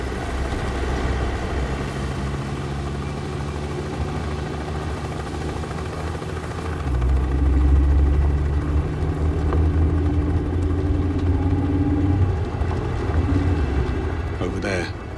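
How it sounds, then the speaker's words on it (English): A helicopter in the video game 007 First Light approaches with a steady low rotor and engine drone that grows louder about halfway through, and characters speak over it. "Bavma's heli is inbound."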